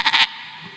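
A person's voice imitates a baby goat's bleat, a short wavering cry of about a quarter second, followed by quiet.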